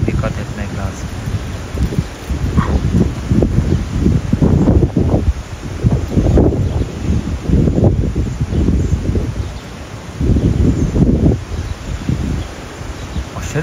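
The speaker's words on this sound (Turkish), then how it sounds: "Aşırı sert bir rüzgar var ya." Strong, gusty wind roars across the microphone and rustles leaves outdoors, a loud continuous buffeting that rises and falls in surges throughout, with no pauses.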